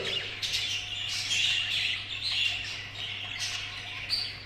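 Show birds in a breeding loft giving repeated squawks and chirps, close and moderately loud over a faint steady hum.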